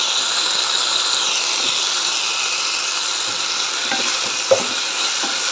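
Thinly sliced green chillies frying in a pan for amaranth leaf rice, a steady loud sizzle with occasional scraping clicks from stirring, close up and without talk.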